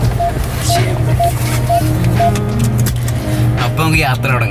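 A gearless automatic Jeep with a turn-knob shifter drives off on a road trip from New York to Florida. Its engine gives a steady, fairly loud low drone that rises slightly, with voices talking over it.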